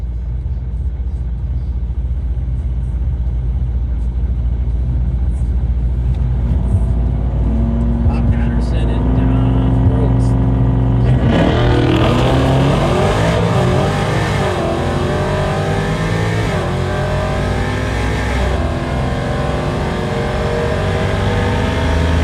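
An E85 S550 Mustang and a ProCharged 5.7 R/T Challenger at a drag strip: a steady engine rumble, then a loud surge of revving and acceleration midway that climbs in pitch and stays close and powerful to the end.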